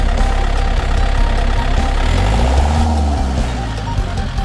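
A Yanmar YM351A diesel tractor engine from 2021, original and unmodified, runs steadily up close with a low, even rumble and idling throb that keeps a constant level throughout.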